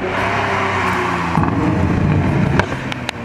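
Ferrari 812 V12 running on a dyno at a tuning meet, a loud continuous engine drone that builds in intensity, heard alone with no talk.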